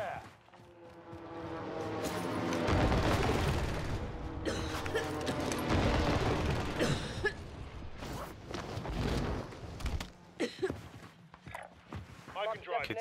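Airstrike blasts in the Warzone Caldera battle royale game: heavy, sustained booming and crackling gunfire-like bursts across the clip, loud and dense at first, then thinning into scattered sharp hits, with voices talking over it.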